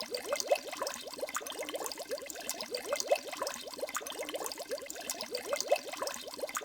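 Water sloshing and trickling steadily with a busy, bubbling texture as a wagon fords a river in The Oregon Trail computer game, a continuous liquid rush with no voices.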